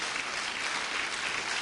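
A church congregation claps in praise to God during a sermon, a dense, even wash of many hands applauding, steady and loud for the whole short stretch with no break.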